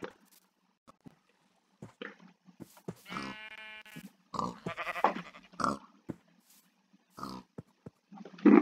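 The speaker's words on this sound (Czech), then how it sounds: "Tady jak máme ovečky." Sheep in a video game bleat a few times, one clear drawn-out bleat standing out among short scattered game sounds in an otherwise quiet scene.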